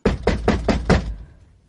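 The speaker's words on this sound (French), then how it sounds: "On frappe à la porte." Five firm, evenly spaced knocks on a door, close and loud, followed by a brief fading tail and quiet.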